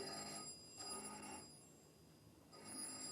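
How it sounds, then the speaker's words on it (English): An old-fashioned telephone bell rings in bursts in a 1952 radio crime drama, two rings separated by a pause, fairly clear at moderate level with no talk over it. "Oh, crikey, the phone."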